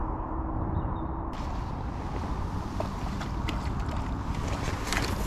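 Strong wind buffets the microphone beside a fishing lake at Packington, a constant low roaring rumble with a hiss that brightens after the first second, no voices.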